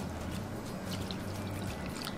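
Two cups of water poured into a canjica mixture with coconut milk, cream and condensed milk, a steady soft splashing pour running throughout, fairly quiet and close, with no talking.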